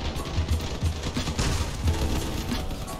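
Cannons firing in the Crossout vehicle combat game, a dense rapid barrage of heavy booming shots overlapping in bursts, loud and continuous for three seconds.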